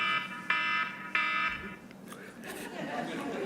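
A timer alarm sounds as two short, loud electronic beep bursts in quick succession, followed by people chattering and chuckling in a room.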